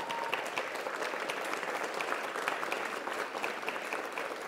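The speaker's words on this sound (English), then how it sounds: "a very big round of applause" An audience claps steadily in sustained applause after a gamelan beleganjur performance, a dense patter of many hands with no voices.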